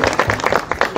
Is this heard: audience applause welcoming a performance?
yes